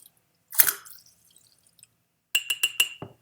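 Water drops from a dropper land on a dry penny sitting on a dish lid, a single soft splash early on, then a quick run of four or five close, bright drips followed by a duller plop.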